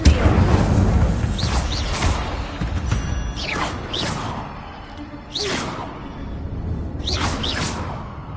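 Fire spell Incendio cast repeatedly in Hogwarts Legacy, heard as four separate whooshing bursts spaced about two seconds apart, each a bright rising swish over a continuous low rumble of game ambience.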